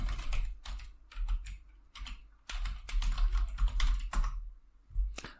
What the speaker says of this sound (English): So we'll type some commands.